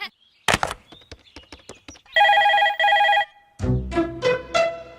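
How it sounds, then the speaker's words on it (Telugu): A telephone rings in two long electronic bursts in the middle, preceded by sharp clicks and knocks and followed by louder thuds and a short tonal phrase. "రింగ్ అవుతుందిరా."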